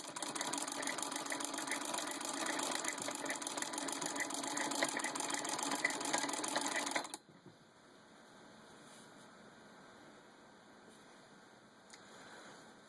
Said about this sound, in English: I'm just running it with a hand crank machine just to show you